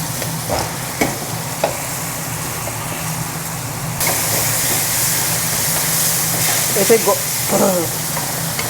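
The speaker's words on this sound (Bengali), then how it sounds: "আমি এইবার টমেটোটা দিয়ে দিচ্ছি।" Tomatoes frying in a pan for mixed dal, with a steady sizzle throughout that turns into a brighter, louder hiss halfway through, plus occasional stirring clinks and a low background hum.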